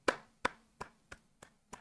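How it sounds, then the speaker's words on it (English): A single person's slow hand claps, six sharp, evenly spaced claps, close and fairly quiet, sounding sparse and sarcastic rather than like a crowd. "she gives you a applause."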